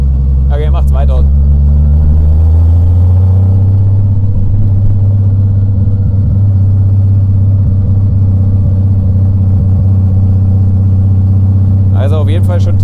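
VW Golf engine with a faulty valve cover, held at a steady loud rev around 2000 rpm after idling, a deep continuous drone close up, with short bursts of voices at the start and end.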